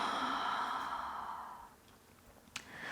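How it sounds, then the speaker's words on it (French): During a seated chair yoga session, a single long, deep exhale is heard up close, breathy and soft, then fades into a quiet pause. "vous commencez délicatement par inspirer dans l'abdomen, vous expirez"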